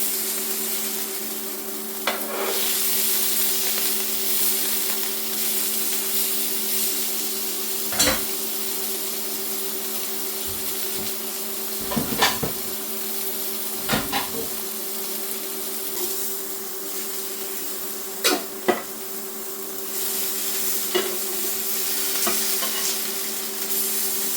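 Venison steak frying in oil in a pan, a steady close hiss of sizzling with a constant hum beneath and several scraping and clunking sounds as the meat is moved and flipped, with no talking.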